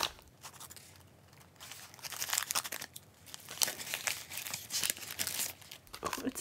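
Paper envelope package torn open and unfolded by hand, with steady close crinkling, rustling and tearing sounds that grow louder and busier after the first couple of seconds, with no talking.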